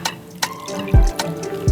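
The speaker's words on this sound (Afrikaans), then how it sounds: "Dan laaste gooi jy soveel water in soos wat jy nodig het." Water is poured into a homemade cleaning mixture of vinegar and other ingredients, heard as a few close splashes and drips in short bursts, loud and without talk.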